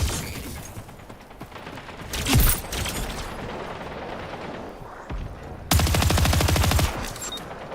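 The kitchen gun in Splitgate 2 fires in bursts of rapid, loud shots, first in a short sharp cluster and then in a longer dense stream near the end, with game clatter around them and no talk.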